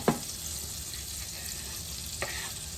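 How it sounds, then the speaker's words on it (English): Onions and garlic fry in a pan for a mushroom and Parmesan risotto, giving a steady, close sizzle throughout, broken by a couple of brief clinks near the start and toward the end. "now we're going to cook up our onions and our garlic"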